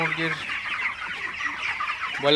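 Broiler chickens on a farm cluck steadily as a dense, close flock chorus, with a few louder individual calls near the start and end.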